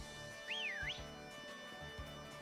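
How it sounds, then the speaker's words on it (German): A person whistles one short, wavering tune that rises and falls, heard faintly over a quiet background with soft rhythmic thumps. "Ich kann pfeifen."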